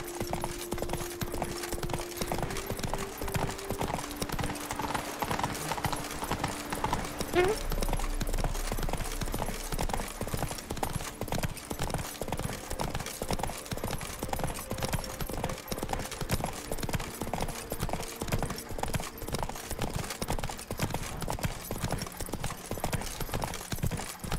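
Steady clip-clop of Roach the horse's hooves in a video game, a continuous even trot running the whole time under constant game music, with a brief neigh partway through.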